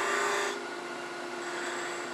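A steady, faint scraping hiss of a turning tool on spinning wood on a lathe, making a Christmas tree ornament, easing slightly after the first half-second and continuing evenly.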